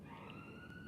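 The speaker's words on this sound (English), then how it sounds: "The ambulance just flying past there" An ambulance siren passing along a street outside, a faint steady wailing tone heard at a distance and low in level.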